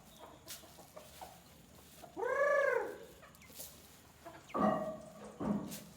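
Native chickens in a backyard flock give a few scattered clucks and one drawn-out harmonic call, spaced apart by quiet gaps, with faint outdoor background and no talking.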